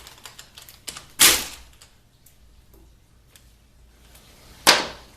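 Two sharp metallic clicks of a socket tool working on the 13 mm bolts of a 4L60E transmission range sensor during teardown, separated by a few seconds of quiet with faint light taps before the first.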